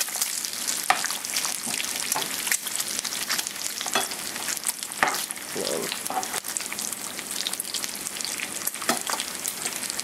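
Strips of bacon fry steadily in a pan with a dense, continuous crackling sizzle and scattered sharper pops. A brief utensil scrape or flip sounds near the middle, and there is no talk.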